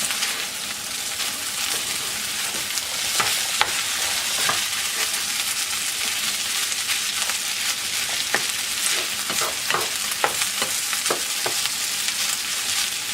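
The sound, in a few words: chicken fried rice being flipped and stir-fried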